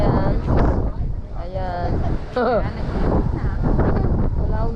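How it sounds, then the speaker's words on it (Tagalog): Strong gusts on Mount Lycabettus buffet the microphone in heavy low-frequency rumbles that come and go, with people talking over the wind throughout. "Lakas talaga ng hangin."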